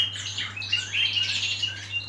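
Young fledgling birds that have left the nest chirp and squawk in a steady busy chatter, high thin calls overlapping continuously against a low steady hum.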